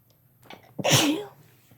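A single loud, close sneeze bursts out after a brief inhale, part of a run of rapid sneezes, heard alone with no speech.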